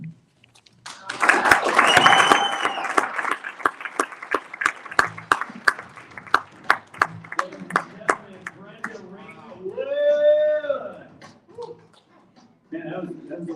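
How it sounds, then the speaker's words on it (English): Applause from a live audience at a talk on becoming unshakable opens as a dense wash of clapping, thins into scattered separate claps, and gives way to a voice speaking near the end. "that was a weak after applause"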